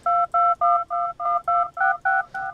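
Touch-tone telephone dialing tones loaded into an Ableton Live sampler: nine evenly spaced beeps, each a steady dual-pitch tone, clean and loud with short gaps between.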